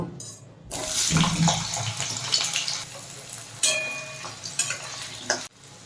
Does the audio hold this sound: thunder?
no